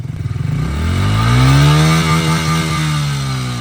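A stock pit bike engine revs hard close by, pitch sweeping up and holding a loud buzzing whine before easing slightly.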